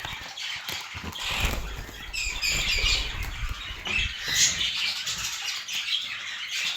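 Small finches that resemble zebra finches burst out of a cage in an aviary, giving a busy flurry of flapping wings, scuffling and squawky chirps that are close and moderately loud, with no talk.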